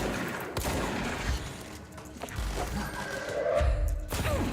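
Video game gunfire, several muffled shots and thuds scattered across a few seconds, fairly quiet under a low background rumble.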